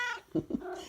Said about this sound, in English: That's my cat Mauser.